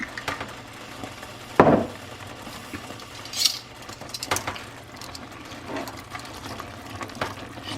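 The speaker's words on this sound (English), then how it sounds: "Stir those noodles." Noodles are stirred in a slow cooker, making a few wet scrapes and utensil clinks, including one louder knock, against a low steady hum, close and fairly quiet.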